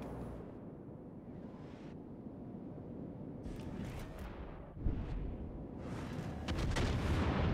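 Warship front guns fire in a naval combat video game, giving deep booming blasts over a steady low rumble of battle noise, with the loudest bursts near the middle and end.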